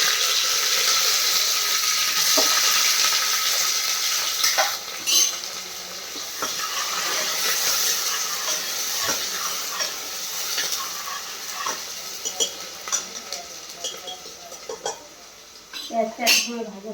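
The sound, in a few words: onions frying and sizzling in a pan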